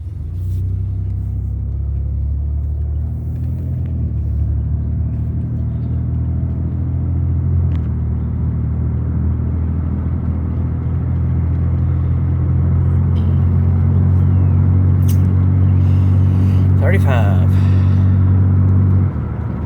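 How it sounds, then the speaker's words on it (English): A 1999 Chevy Malibu with freshly serviced transmission fluid and filter drives along, its steady low engine and road rumble continuous and close throughout, the engine note rising slightly toward the end. "let's take her for a drive and see what she does"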